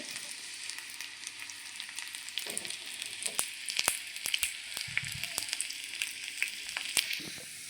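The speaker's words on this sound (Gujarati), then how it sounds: "તેલ થોડુંક ગરમ લઈ લીધું એમાં આપણે લસણ ઉમેરી દઈશું આપણે લસણનો વઘાર કરવાનો છે" Garlic sizzles in hot oil for a tempering for spinach khichdi, a steady close frying hiss broken by sharp crackles and pops that cluster toward the middle.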